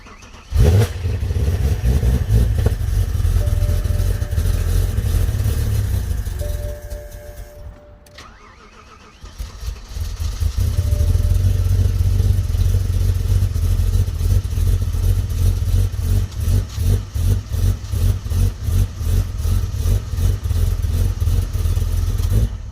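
A supercharged BMW E92 M3 with engine damage pulls away and drives, its engine droning loud and close with rising revs, a brief lull midway, then a strong steady pull again.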